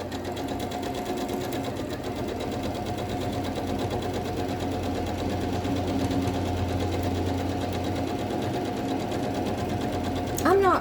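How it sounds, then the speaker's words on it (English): A sewing machine chain stitches a quilt in a steady, continuous mechanical whir that runs unbroken throughout, close and fairly loud, with a brief squeak near the end. "So chain stitching is what I'm doing, just because it saves thread and it's a little faster."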